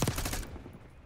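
Gunfire from a Call of Duty: Black Ops 6 match crackles in a brief rapid burst, several quick shots in the first half second fading into game ambience, at moderate loudness.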